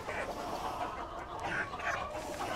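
Johnny Moore Albany gamecock rooster, a red retinto bird still finishing its feathering, clucking at a breeding farm amid steady background noise; several short clucks at moderate volume with no talk.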